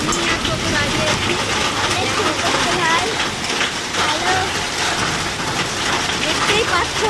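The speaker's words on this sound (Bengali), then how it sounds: "দেখো কত শিল পড়ছে গাইস" Heavy rain mixed with hailstones pelting down outdoors in a steady, dense, loud roar that continues without pause, close by, with a voice talking over it.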